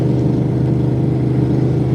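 A loud, steady car engine drones from inside the vehicle while driving on bias-ply tires, a low rumbling hum with no talking.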